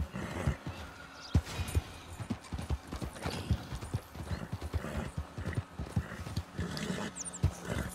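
A horse galloping in the video game Red Dead Redemption 2, a loud, steady clip-clop of hooves running throughout with occasional snorts, no speech over it.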